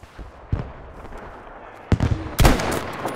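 Sharp, echoing rifle reports from a sniper rifle in Battlefield 5, set in a city map: a few separate cracks spaced apart, the loudest near the end, with booms trailing off.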